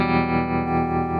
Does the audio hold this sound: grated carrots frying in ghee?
no